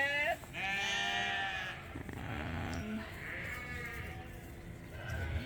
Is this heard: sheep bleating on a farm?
yes